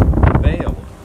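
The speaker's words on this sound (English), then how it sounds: "We have had some serious gusts down here at our location." Strong wind gusts buffet the microphone outdoors beside a tall television broadcast tower, a loud rumbling roar that surges and fades in bursts over about a second, with a voice faintly mixed in.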